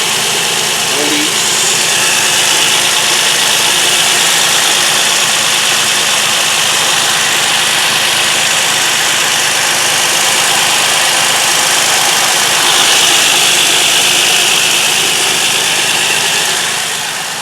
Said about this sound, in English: So I'm gonna just run it for about 10 more minutes, 5-10 more minutes, and see if there's any oil leaks.